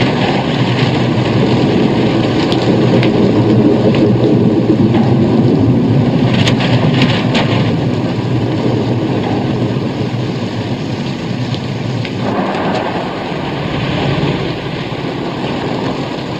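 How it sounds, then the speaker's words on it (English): Steady heavy rain pours down continuously while driving, with low rumbling thunder rolling beneath the hiss throughout. "Kinda nice driving in this rain."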